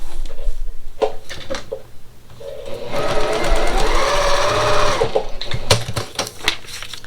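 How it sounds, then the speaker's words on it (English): A sewing machine stitches a quilt block seam, its motor running in short bursts and then a steady whirring run of several seconds, close and loud. "Sew it."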